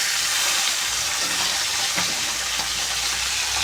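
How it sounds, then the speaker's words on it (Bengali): Fish from a beel fry in hot oil, giving a steady, fairly faint hiss of sizzling with a few soft crackles and no voices. "তেল গরম করে এক রকম মাছগুলো দিয়ে দিচ্ছি। একটু লাল করে ভাজতে হবে।"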